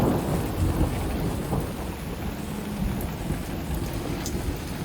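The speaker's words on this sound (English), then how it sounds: "I hear the thunder, but I do not see the lightning." Thunder during a severe thunderstorm with heavy rain: a low, continuous rumble under the steady hiss of rain pouring down, fairly distant and even in level, with no talking.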